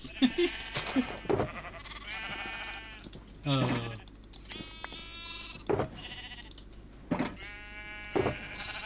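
Minecraft sheep bleat repeatedly in short, nasal bursts spaced a second or so apart, some overlapping, with someone talking quietly between and beneath them.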